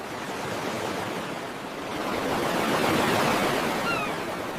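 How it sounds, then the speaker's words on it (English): Ocean waves wash steadily onto a beach as a continuous broadband rush that swells and recedes gently, heard on their own with no voices. "I am looking at the waves."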